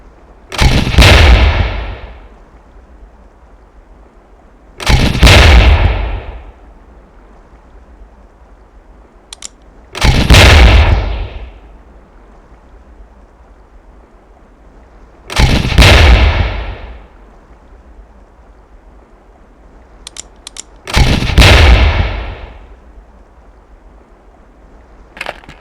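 Grenade launcher on a video game training range at Fort Bragg, with five heavy booming launches and explosions spaced about five seconds apart, each with a short rumbling decay, and no talking.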